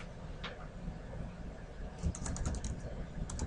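Light keyboard typing on a computer while working in PowerPoint, a short run of soft clicks in the last second and a half over a quiet room hum, with no talking.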